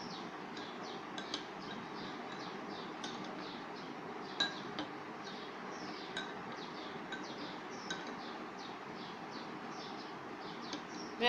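A spoon clinks rhythmically against a bowl while yogurt mixed with squeezed lemon juice is stirred, a quick steady run of light taps over soft background hiss, close and fairly quiet.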